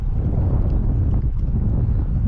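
Strong wind buffets the microphone on a boat fishing for largemouth bass on Lake St Clair, a loud, steady low roar that fills the whole stretch with no other sound.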